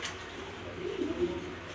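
Grizzle racer pigeons, young birds kept in a loft, give a soft, low coo that swells briefly near the middle of the short stretch over a steady background hum.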